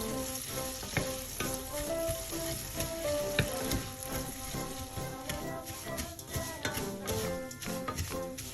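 Vermicelli toasts in melted butter, giving a continuous sizzle with frequent stirring clatters from the pan over a faint tonal background.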